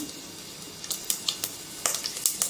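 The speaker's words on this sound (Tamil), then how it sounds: "எண்ணெய் காஞ்சதும் கடுகு, உளுத்தம்பருப்பு, சீரகம்," Mustard seeds, urad dal and cumin sizzling in hot oil in a clay pot, giving soft, quick crackles and pops that grow busier over a couple of seconds.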